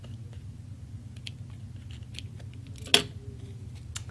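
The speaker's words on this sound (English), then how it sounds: "Turn it over, just trim it" Scissors trimming a fabric applique piece, a few soft snips over a low background hum, with one sharper, clearer cut near the end, quiet and close.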